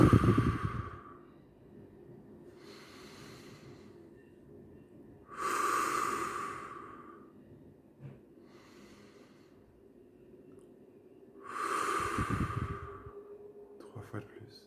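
Slow, deep guided breaths during a calming breathing exercise: three long inhale-exhale cycles with airy rushes around the start, middle and end, separated by quiet pauses, close and unhurried with no talking.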